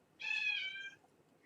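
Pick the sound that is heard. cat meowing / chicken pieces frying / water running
cat meowing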